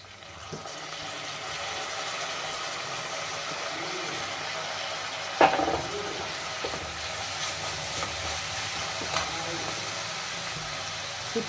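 Onions and tomato fry quietly in a pan while masala Maggi is cooked, a soft low sizzle with a few sharp clinks of a spoon or utensil against the pan.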